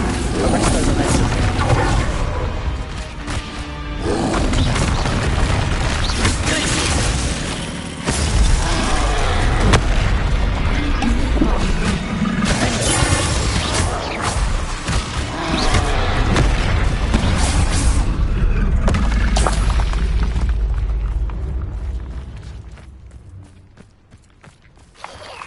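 Deep, heavy blasting explosions from the Bombarda spell in Hogwarts Legacy rumble almost continuously at loud volume, layered with creaks and mechanical clatter before fading out near the end.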